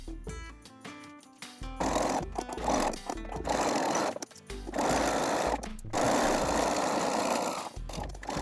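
A sewing machine stitches the top edge of a tube top a quarter inch in, in loud sustained runs broken by brief pauses and a short stop near the middle.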